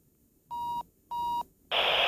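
Karta HF portable radio station beeping twice after power-on to signal channel two: two clear, evenly spaced tones of equal length, followed by a burst of hiss.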